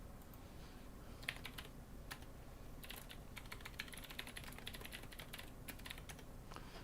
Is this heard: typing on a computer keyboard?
yes